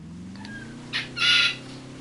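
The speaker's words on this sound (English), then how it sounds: "Sorry about the bird in the background." A small bird calls twice near a yacht in a game world, a short chirp followed by a longer bright trill, heard over a steady low engine-like hum.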